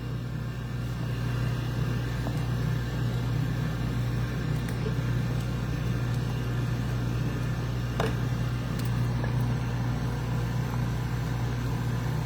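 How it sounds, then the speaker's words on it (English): A cold press juicer runs in a steady, continuous low hum with a constant motor drone and a few faint clicks, alone with no talking. "True cold press juicer."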